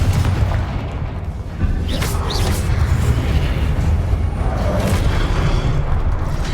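Confringo explosive spell blasts in the Hogwarts Legacy video game, a loud, deep booming rumble with sharp bursts layered over sustained heavy low-end roar.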